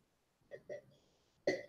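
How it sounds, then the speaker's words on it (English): A few short throaty coughs, quiet at first then a sharper, louder one at the end, with silence around them. "You don't have to cough every time you want some."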